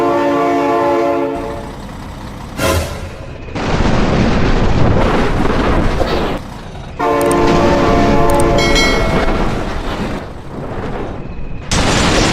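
A train in the BeamNG driving game sounds long, loud horn blasts in repeated bursts while the heavy rumble of the passing train roars between them, close and dominant with no talking.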